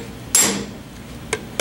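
A hammer taps a screw into a Suzuki two-stroke engine during assembly, one sharp metallic strike followed by a lighter tap a second later, close and clear.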